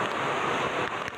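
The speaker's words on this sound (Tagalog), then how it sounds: "Umaapaw ang tubig sa ilog sa Evangelista Bridge sa Binyan, Laguna." Floodwater from an overflowing river at Evangelista Bridge in Biñan, Laguna, rushes loud and steady during Typhoon Kristine, a dense broadband roar with wind buffeting the microphone.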